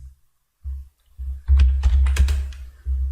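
Computer keyboard typing code, a few isolated keystrokes followed by a quick burst of close, crisp clicks with brief pauses between.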